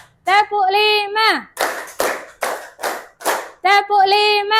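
A class of children claps a rhythmic pattern during a classroom lesson, five sharp group claps in a steady beat, framed by children's voices chanting before and after the clapping.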